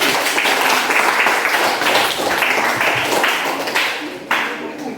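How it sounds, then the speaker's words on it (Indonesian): A school class gives steady applause after students introduce themselves and their dream jobs. The close, even clapping continues throughout and tapers slightly toward the end. "Tepuk tangan dulu"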